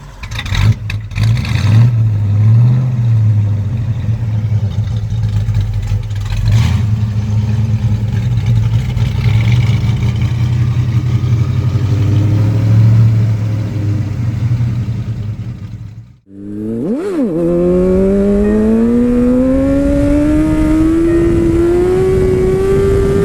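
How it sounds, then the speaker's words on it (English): A 1967 Ford Fairlane 500 hardtop coupe cranks and fires on a cold start, settling into a loud, steady low idle, then cutting out briefly before restarting and revving with a rising engine whine. "cold start on a 67 Ford Fairlane 500."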